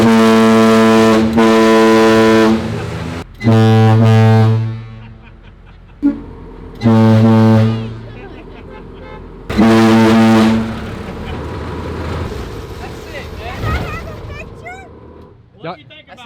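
A cruise ship horn mounted on a tank blares in several long, deep, very loud blasts separated by short pauses, followed by quieter outdoor noise.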